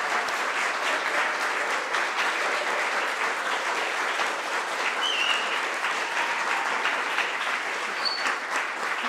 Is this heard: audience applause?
yes